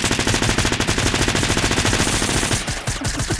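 Rapid, continuous submachine gun fire from the video game Fortnite, loud and close, a steady stream of shots that cuts off near the end.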